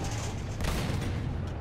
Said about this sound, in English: The AA guns are hitting us really good.